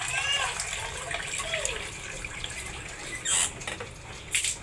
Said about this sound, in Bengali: এটাতে এখন পানি দিচ্ছি, পরিমাণ মতো পানি দিয়ে নিব।